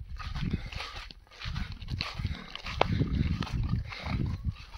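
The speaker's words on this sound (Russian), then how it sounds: "Свинки тоже подрастают вроде." Young farm pigs grunt and snuffle in repeated low, rough bursts close by, with a few sharper squeaks mixed in.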